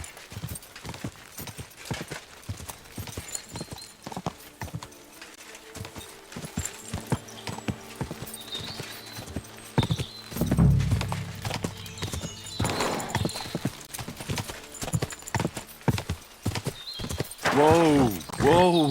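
Horse hooves galloping in the video game Kingdom Come: Deliverance 2, a steady rapid clip-clop rhythm running throughout, with a couple of whinnies and brief shouted voices over the hoofbeats.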